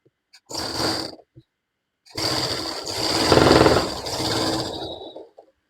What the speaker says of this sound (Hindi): तो इसे हम लोगों को सिलाई करना है।